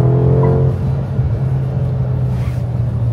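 A high-powered 585-horsepower car engine holds a loud, steady, deep rumble close by, with a brief rising rev near the start and no voices over it.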